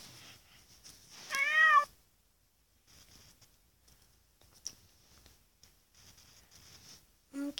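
A cat gives one loud, wavering meow early on, followed by faint clicks and quiet room noise, with another short cat call starting at the very end.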